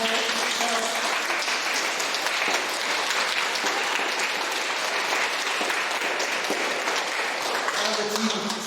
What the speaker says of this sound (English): Come on, Mrs. Cowell, you need a round of applause to wave to everyone on camera.